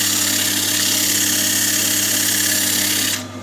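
A power sander runs steadily and loudly with a constant whine during wood sanding, then cuts off abruptly just before the end.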